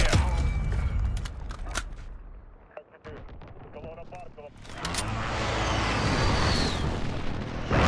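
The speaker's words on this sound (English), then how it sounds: "Allied precision airstrike inbound" Allied precision airstrike in Call of Duty: Modern Warfare multiplayer, with heavy booming explosions and rumbling blasts that pause briefly and then build again into a loud, sustained roar, all under game voice callouts.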